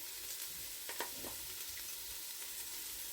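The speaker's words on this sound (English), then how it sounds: "I'm just going to cook the garlic until we can actually smell it." Garlic frying in a pan: a quiet, continuous sizzle with a few faint stirring clicks, steady and close, with no talking.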